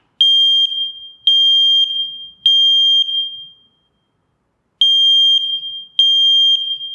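An Aico carbon monoxide alarm sounds three sharp, high electronic beeps, falls silent briefly, then starts another set of three; close, loud and alone, with no voices.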